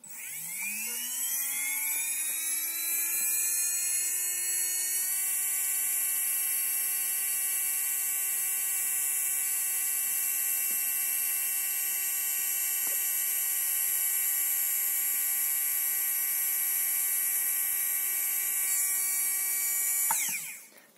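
An X Team 3660 3180KV brushless motor spins up from rest to full speed with a rising whine, then holds a steady, piercing high-pitched electric scream for nearly twenty seconds before cutting off abruptly, with no voices.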